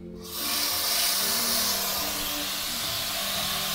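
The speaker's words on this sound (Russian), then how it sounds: "Набираем воды." Water rushes steadily into a Nova Tour camping pot as it is filled, a broad, hissing pour that starts abruptly and continues evenly without pause.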